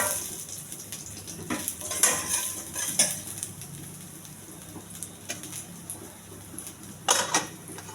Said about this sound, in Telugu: ఉల్లిపాయలు, ఇవన్నీ దోరగా వేయాలి.